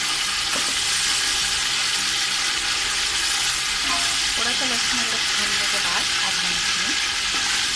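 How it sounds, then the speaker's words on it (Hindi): Garlic and ginger frying in a pot for Delhi nihari give a loud, continuous sizzle, with occasional stirring scrapes and clinks rising above the steady hiss. "पक रहा है लहसुन अदरक।"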